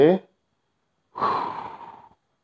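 A short breath, then a longer audible exhale during a slow stretching exercise, close to the microphone with silence between them.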